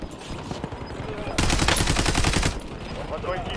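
Automatic gunfire rattles in a video game squad battle, a dense burst of rapid shots that peaks for about a second amid ongoing game sounds and faint in-game voices.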